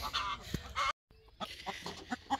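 Free-roaming village chickens cluck and squawk nearby in a burst of fowl calls, with a brief silent gap midway before the clucking resumes.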